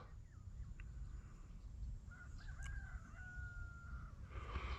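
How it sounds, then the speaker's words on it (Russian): A rooster crows in the distance from a village across the river at night, its drawn-out call rising over a low, rumbling outdoor background, with faint bird sounds around it. "слышно пение петухов"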